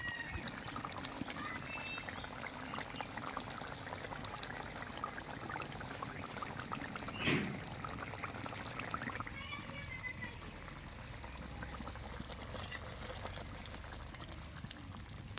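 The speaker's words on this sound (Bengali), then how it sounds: "এবার আমি কড়াই থেকে নামিয়ে নেব।" Fish curry with mustard being poured out of a kadai, a soft continuous liquid trickle and slosh at close range, with faint kitchen clatter and a brief scrape partway through.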